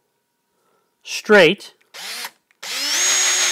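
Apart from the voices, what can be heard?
power drill drilling a hole in wood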